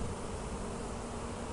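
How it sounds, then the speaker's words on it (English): Dense, continuous buzzing of a honeybee swarm fills the air, a thick steady drone with no pauses or voices. "so you can get an idea of how thick the air is with bees."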